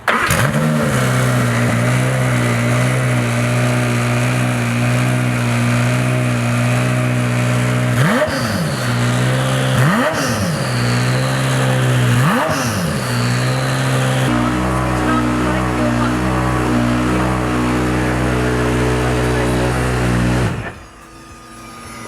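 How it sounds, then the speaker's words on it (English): Ferrari Risi Competizione race car engine starting up and idling loudly up close, with three sharp revs in quick succession before settling back to a steady idle, then cutting off abruptly. "I'm going to start it up."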